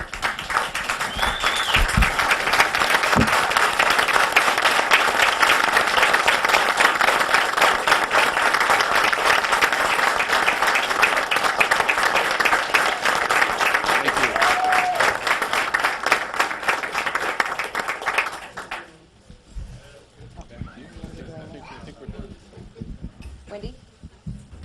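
A standing ovation at a city council meeting: a large room of people claps steadily and loudly for nearly twenty seconds, with occasional whoops rising above it, then stops, leaving faint room sounds and murmuring.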